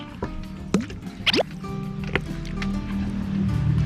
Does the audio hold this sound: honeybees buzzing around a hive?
no